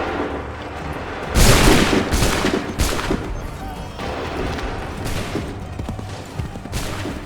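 Musket volleys in Assassin's Creed III: several loud, booming rifle volleys fired in ragged bursts, each trailing into a rumbling decay over constant battlefield noise.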